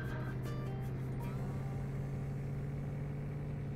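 A Mercedes car engine drones steadily and loud from behind in Farming Simulator 19, a continuous mid-pitched hum with no voices.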